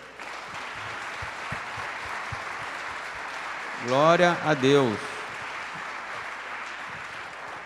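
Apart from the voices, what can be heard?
church congregation applauding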